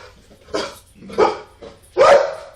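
A dog barks three times in close succession, loud and near, with short gaps between the barks and the last one the strongest, and no talking over it.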